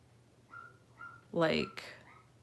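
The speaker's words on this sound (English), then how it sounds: "I don't know if you guys can hear my little dog barking." A small dog barks a couple of times indoors, short yappy bursts heard faintly in the background with a voice nearby.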